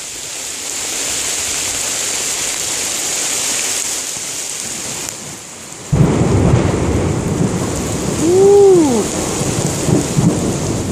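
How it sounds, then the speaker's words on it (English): Heavy rain pouring down on a rainy winter day, a steady broadband wash that swells louder halfway through, with a low rumble of thunder rolling by near the end and a brief shout. "Oh, it's pouring pretty good now."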